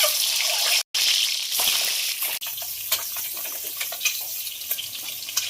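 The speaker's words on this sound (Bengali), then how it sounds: "এবার ডিমগুলো ভাজার জন্য দিয়ে দেবো" Eggs fry in hot oil in a pan, a loud continuous crackling sizzle that briefly cuts out and resumes, with scattered pops and spatters throughout.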